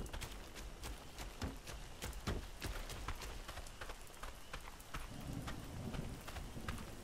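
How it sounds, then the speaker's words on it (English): Rain falling steadily in the video game Ark Survival Ascended, a continuous wash of patter with scattered sharper drops and low rumbling underneath, moderately loud and without speech. "Now it's raining."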